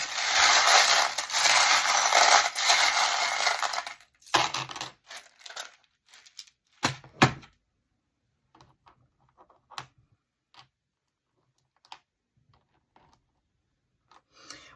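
Small metal charms clink and tumble for about four seconds in a loud, dense jangle, then a few scattered light clicks and taps follow sparsely, with no talking.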